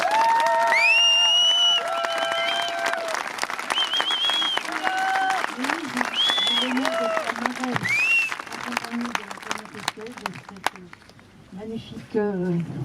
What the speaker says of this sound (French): Je vous demande de faire un tonnerre d'applaudissements pour Agnès B et Thomas Pesquet